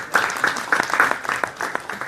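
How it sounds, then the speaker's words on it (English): Audience applause at a panel on athletes and activism, a steady patter of claps from a room full of people lasting a couple of seconds at moderate loudness. "We need to clap on that."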